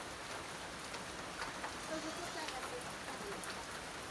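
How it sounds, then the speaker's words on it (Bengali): Steady rain falls around a veranda, a soft continuous patter filling the whole stretch at moderate distance with no break. "বৃষ্টি ভালোই হচ্ছে বুঝছেন।"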